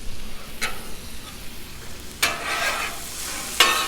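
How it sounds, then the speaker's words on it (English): Red pepper, jalapeno and yellow onion sizzle on a Blackstone griddle, a steady loud fry with three sharp spatula scrapes and tosses breaking through, close up and without speech. "So we got some red pepper, some jalapeno, and some yellow onion. Get it all on here."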